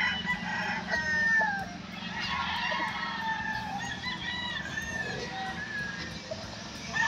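Gamefowl stags and cocks crow repeatedly, several calls overlapping at close range, with clucking and faint background chatter.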